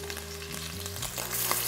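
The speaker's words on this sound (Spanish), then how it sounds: "Voy a sellar, porque dijimos que queremos hacer estofado." Beef short ribs sear in hot oil in a pot for a stew, a steady loud sizzle and crackle with no talking over it.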